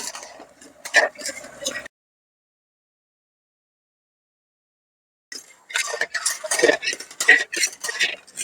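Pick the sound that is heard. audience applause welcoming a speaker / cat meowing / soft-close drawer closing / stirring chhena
stirring chhena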